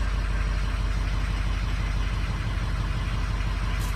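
A Harley motorcycle engine runs after a cold start, holding a steady, loud, low-pitched rumble with a fast pulsing beat throughout, alone and without voices.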